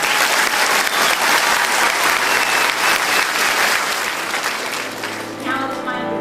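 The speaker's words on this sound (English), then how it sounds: "So once again, please give him a round of applause." Audience applause at a Texas Army National Guard homecoming in Port Arthur, a dense steady wash of many hands clapping that carries through almost the whole stretch, then eases as a voice begins speaking near the end.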